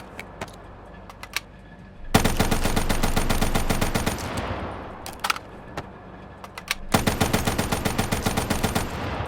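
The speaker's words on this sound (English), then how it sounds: "holding the trigger, and it's continuously firing like a fully automatic weapon" Rapid continuous automatic gunfire from a jitter-modded weapon in Black Ops 3, loud sustained bursts with short gaps between strings of shots.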